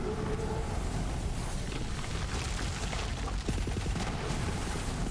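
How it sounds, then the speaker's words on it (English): Rapid automatic fire from a legendary gun in Borderlands 3, a dense, loud barrage of shots pouring out continuously with booming impacts, no voices. "it fires a lot of bullets at once"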